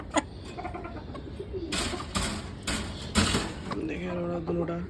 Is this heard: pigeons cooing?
yes